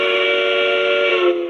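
A Lionel Legacy M1 Pennsylvania Railroad model train sounds one sustained, piercing steam-style whistle, a loud chord-like tone held for over a second before tapering off, with no talk.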